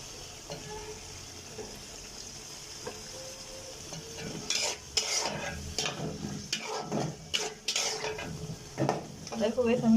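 Tomatoes go into fried spices in a pan for a village-style fish curry, producing a sizzle and irregular scraping, clattering stirs that grow louder and busier partway through.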